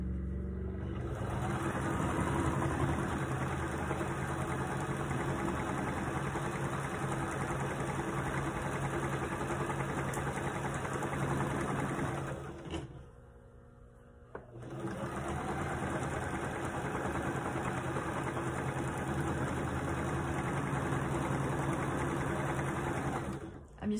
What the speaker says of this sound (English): I'm going to sew a 1/4 inch seam allowance down this whole strip, this whole row.